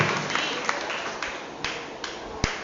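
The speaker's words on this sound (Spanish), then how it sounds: "Denle un fuerte aplauso a Dios" A church congregation applauding, a rapid, dense spatter of clapping with several louder individual claps punctuating it at irregular intervals, close and lively.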